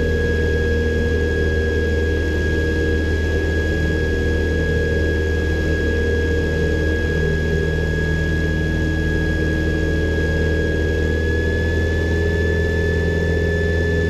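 A steady, droning light airplane engine runs continuously at full power, around 3000 RPM, with a low rumble and a couple of sustained whining tones throughout.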